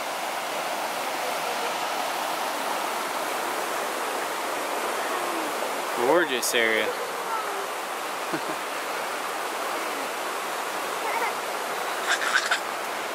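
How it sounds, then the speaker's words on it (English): Waterfalls and a stream at a campsite give a steady, broadband rushing of flowing water throughout, with a voice speaking briefly and a few short bird-like chirps over it. "But right here at a set of waterfalls."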